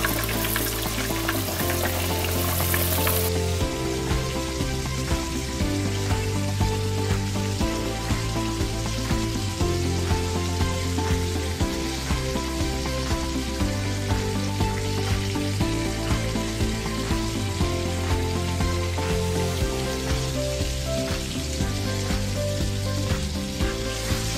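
Pontic pisia dough pieces frying in hot oil until golden, making a loud, continuous crackling sizzle that holds steady throughout, with background music playing underneath.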